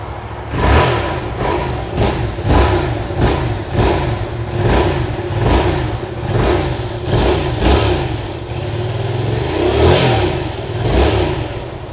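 A Yamaha MT-07 motorcycle engine revs repeatedly in rhythmic bursts, loud and close, with a rough throaty rumble between each blip of the throttle.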